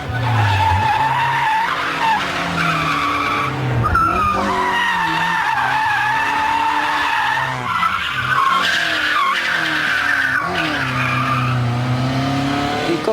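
A non-turbo twin-cam 1600 Toyota AE86 drifts with long, loud tire squeals that waver in pitch over the revving engine, close and continuous.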